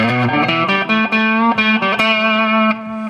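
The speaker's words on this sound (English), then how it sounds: "Yep, back on that octave solo effect." A Zoom G1 FOUR guitar processor's octave solo effect rings out alone, loud sustained guitar notes with a doubled octave tone, played as a short run of changing pitches.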